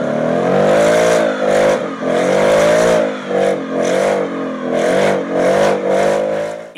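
A 2022 Ford Mustang Mach 1 engine revving under launch control, a loud, sustained V8 roar that holds high revs, with repeated brief dips and surges in pitch as the throttle is held and released, close and alone.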